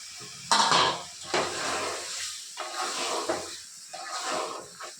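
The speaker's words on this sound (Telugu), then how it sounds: "టమాటాలు వేసేస్తున్నాను." A loud splash and hiss as tomatoes drop into a hot pan of frying coconut masala, followed by bursts of sizzling and scraping as they are stirred.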